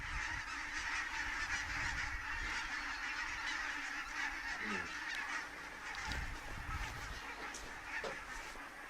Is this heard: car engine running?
no